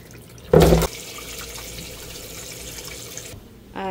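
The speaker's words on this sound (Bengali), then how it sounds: "মাংস কিন্তু এখনো ভিজে নেই, দেখছেন অবস্থা, মানে ছোট হাঁড়িতে ভিজাইছি দেখে মনে হয়। তো পানি চেঞ্জ করে দিতেছি।" Tap water gushes briefly into a small pot to change the soaking water for meat in a home kitchen, a short loud splash followed by a low steady hiss of running water and a second burst at the end.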